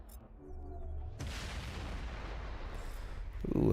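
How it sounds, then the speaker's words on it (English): A deep explosion booms in the Mass Effect video game, a sudden loud blast that rumbles on for a couple of seconds before a second hit lands at the end. "Ooh, another high explosion."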